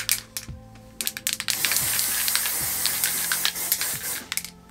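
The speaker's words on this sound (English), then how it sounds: "We're just going to finish off with the hairspray, just so it holds into position as well." Hairspray on a man's styled hair, short hissing aerosol bursts followed by one longer continuous spray, near and fairly loud, with light handling clicks between bursts.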